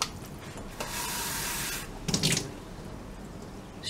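Tap water running into a bowl to measure out for cooking rice, a steady stream for about a second, then a brief louder splashing pour, followed by quieter kitchen sounds.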